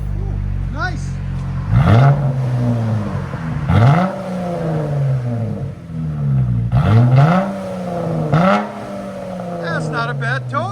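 A Dodge Challenger V6 with a Big Boz exhaust revs repeatedly, with rising and falling blips spaced a couple of seconds apart, loud and close, with speech in the background.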